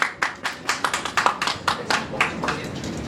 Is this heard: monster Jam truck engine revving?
no